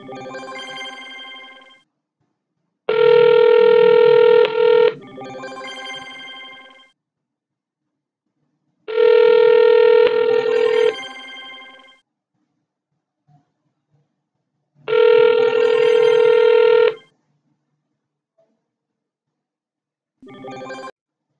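An Asterisk phone line rings after being dialed: three long, loud electronic ring tones spaced about six seconds apart with silence between, plus partial rings at the start and end.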